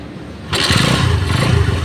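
Honda CB motorcycle engine fires up after a brief quiet moment and settles at once into a loud, close, rough idle that keeps running steadily to the end.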